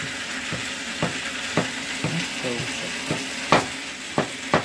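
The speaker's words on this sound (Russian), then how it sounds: "обжаривать картошку сначала на сильном огне надо" Potatoes fry in a pan over high heat with a steady hiss, broken by occasional scraping stirs and clinks of a utensil nearby.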